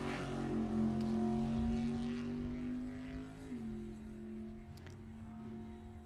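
A drag racing car powered by a Dart 565 engine holds a steady, heavy engine drone, its pitch stepping down partway through, loud and sustained without voices.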